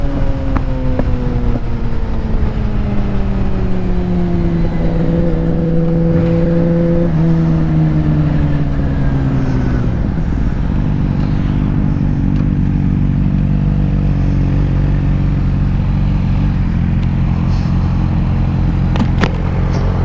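A motorcycle engine revs at night while its clutch slips, giving a loud, close drone whose pitch holds, then slides downward and settles into a steady low rumble with a few clatters.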